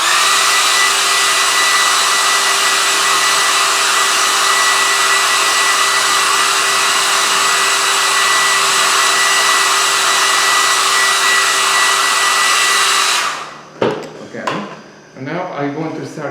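Hair dryer blowing on paint at an art demonstration, a loud steady whine running for about thirteen seconds before it cuts off, followed by a few clattering knocks as it is set down.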